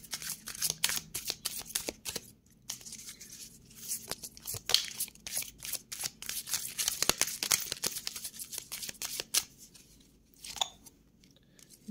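A deck of oracle cards is shuffled close up, with rapid riffling flutters and papery slaps in quick bursts and brief pauses, quiet and without speech.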